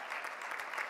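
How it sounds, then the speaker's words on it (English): Audience applause at a startup pitch competition, a brief, even wash of many hands clapping, fairly faint and distant, with no voices over it. "Please give a round of applause to Joy Marcus."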